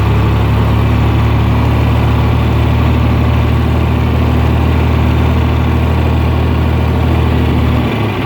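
The engine of a John Deere 4010 tractor with a suspected governor fault runs steadily while it drives. The low, loud drone stays unbroken and close throughout, with no voices.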